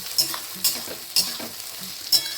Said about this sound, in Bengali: তো আমি পেঁয়াজটা এখন ভেজে নিচ্ছি।